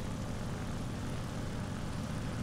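Engine of a J2M3 Raiden fighter in the game War Thunder, a steady, droning propeller roar that holds constant throughout, with no voices.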